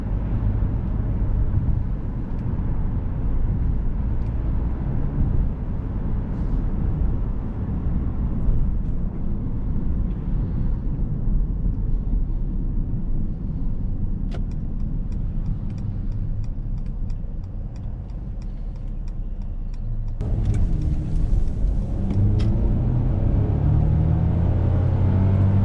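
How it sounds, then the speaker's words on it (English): A 2019 Mercedes-Benz GLC 300 cruising at highway speed, a steady low road and engine rumble heard from inside the cabin, continuous and fairly loud with a brief shift in tone near the end. "I'm in manual 5. This will go all the way up to 9. So we're going like highway speeds."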